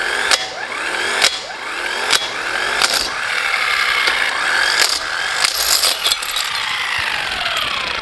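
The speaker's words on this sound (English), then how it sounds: "So it's not a typical rattle gun, but it's doing the job." Compact power wrench spinning off wheel nuts in an off-road tyre emergency, a loud whirring rattle broken by sharp ratcheting bursts and clicks, close by and steady over about eight seconds with no talk.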